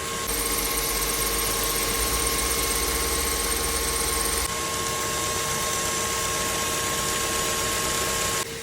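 A 2006 Mazda 5 2.0 petrol engine idles with a steady rumble while a high, thin squeal from a worn alternator belt rides constantly on top.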